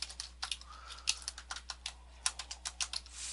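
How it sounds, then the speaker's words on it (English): Typing on a computer keyboard: a quick, uneven run of close, crisp key clicks with short pauses, alone, no voices. "And then you would type some stuff."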